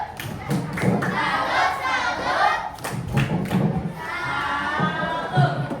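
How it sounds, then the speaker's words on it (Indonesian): A training group claps together for two teams in a bout of rhythmic, patterned clapping with thuds and some cheering, while voices call out over it. "Sekali lagi, kasih tepuk salut untuk kedua kelompok."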